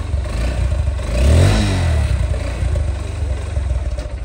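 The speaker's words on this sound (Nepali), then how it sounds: "बाइक एक्सट्रिम पो रहेछ।" A motorcycle engine revs while riding on a road, heard from the passenger seat, with a loud swell of acceleration midway over a continuous rumbling drone and wind.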